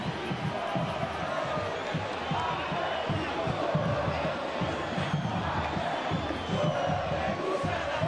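In the FIFA 23 video game, a stadium crowd at an Atlético-GO versus Avaí Brasileirão Série B match keeps up a steady, moderate roar with swelling chants throughout.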